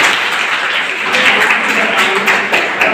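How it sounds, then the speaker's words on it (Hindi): Loud, dense applause from an audience of students at a nursing college event in Khalilabad fills the hall with steady clapping and no talk. "इनके लिए एक बार जोरदार तालियां"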